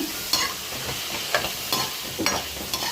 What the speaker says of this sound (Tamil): இந்த ஸ்டேஜில் நம்ம இடித்து வச்ச பூண்டு சேர்க்குறோம்.